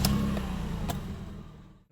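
A 2003 Toyota Camry XV30 with a 3.0 V6 engine starts up, with a short crank and sharp clicks giving way to a low rumbling idle that fades toward silence, close by and with no talk.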